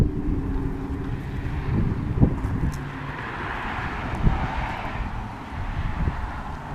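Outdoor wind rumbling and buffeting against a microphone, a steady low roar with gusty swells and a few faint knocks, no talk.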